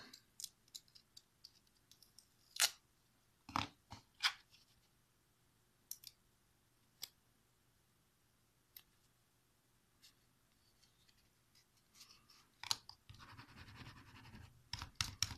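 A paper template peeled away from a sculpting surface, heard as scattered faint scratchy rips and light ticks, with a louder rustling stretch near the end, in a quiet room.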